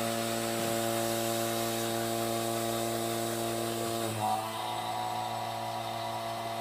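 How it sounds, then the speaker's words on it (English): A vacuum pump on a plastic thermoforming press, used for forming a holster, gives off a steady, even droning hum with a brief bump near the end. "So I'm going to turn this pump on."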